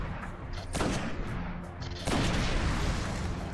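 Sniper and rifle shots fire in Destiny: Rise of Iron, two loud cracks with a rumbling tail against steady game ambience and no talking.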